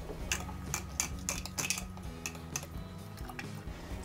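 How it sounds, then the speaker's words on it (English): Spoon stirring red chili powder and other spices into a black carrot kanji drink, giving a series of faint clinks and taps against the container, irregular and close, with no talk. "Mix it well."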